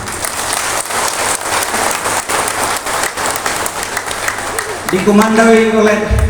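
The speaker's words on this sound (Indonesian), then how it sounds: "Kita tepuk tangan untuk mereka." A large crowd at a church gathering attended by Indonesian bishops applauds the organizers with loud, dense clapping that holds steady, then a voice starts speaking over it near the end.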